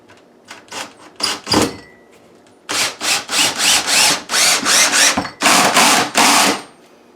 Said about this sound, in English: the reason we drill the wood like that is because sometimes when you put a screw in, it splits the wood